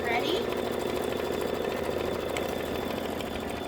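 An embroidery machine stitches quilting on a Kimberbell dress form and cross stitch project, giving a continuous fast mechanical hum and rapid needle chatter, steady and close throughout.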